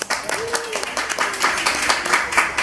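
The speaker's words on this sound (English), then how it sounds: "So we'd like to give everyone a round of applause." Applause from the crowd at an intimate storybook launch event fills the room with steady clapping, while a voice briefly speaks over it near the start.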